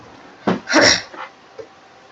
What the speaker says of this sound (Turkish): boğazım kötü o yüzden şey öksürüyorum biraz